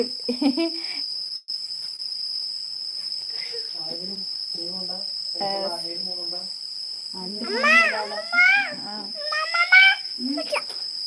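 Steady, high-pitched chirping of a grasshopper or cricket runs through the whole clip, fairly close and unbroken, while people talk over it, including a voice.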